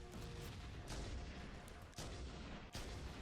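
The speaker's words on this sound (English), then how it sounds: "Tossing grenades all over the place" Repeated grenade blasts in Halo: Combat Evolved on the Truth and Reconciliation mission, a dense, loud run of booming explosions and gunfire with sharp bursts near one and three seconds.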